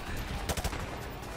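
Gunfire in the Call of Duty Modern Warfare video game, a quick cluster of several sharp shots fired close together mid-clip over a dense, steady battle background.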